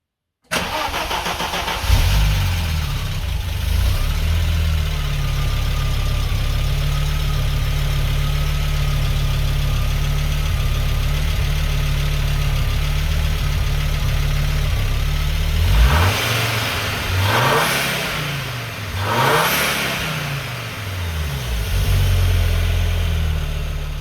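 An Audi Coupe Quattro engine (AAN engine swap) starts and settles into a steady idle, then revs up sharply three times before easing back to idle.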